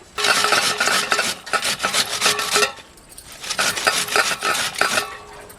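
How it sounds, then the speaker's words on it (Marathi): Cabbage rubbed over a grater in quick rasping strokes, close and loud, two bursts of steady scraping separated by a short pause. "आपण किसणार आहे कोबी"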